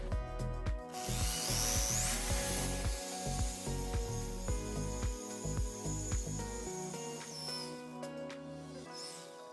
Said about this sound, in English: just drill 2 new holes in each one